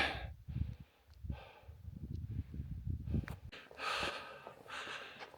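A hiker on a mountain trail in the Bohinj area of the Julian Alps breathes heavily after a climb, repeated loud, close gasps and exhales with soft rustling, without speech.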